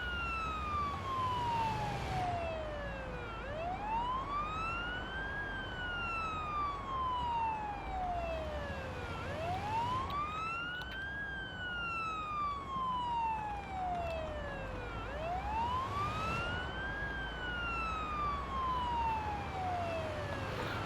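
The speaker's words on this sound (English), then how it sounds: "I know there's a police siren" A police siren in the ambulance simulation game Ambulance Life: A Paramedic Simulator wails continuously, rising and falling in slow repeating sweeps over a low engine hum, steady and moderately loud, with no talk.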